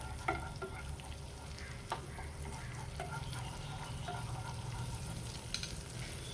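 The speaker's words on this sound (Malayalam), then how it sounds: "ബട്ടർ ഒന്ന് മെൽറ്റായിട്ടുണ്ട്. ഇതിലേക്ക് 1 ടീസ്പൂൺ വെളുത്തുള്ളി ചതച്ചത് നല്ലോണം ഒന്ന് സോട്ട് ചെയ്തെടുക്കാം" Crushed garlic sautés in melted butter with a faint, continuous sizzle and occasional light taps and scrapes of stirring in the pan.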